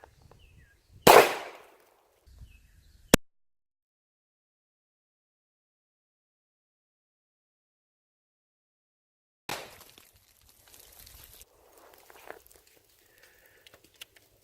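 A single sharp, loud report from a .45 handgun firing a Hornady 185-grain jacketed hollow point round into a watermelon, followed by a brief splatter and long silence, then faint outdoor rustling and handling sounds.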